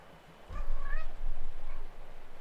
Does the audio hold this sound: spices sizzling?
no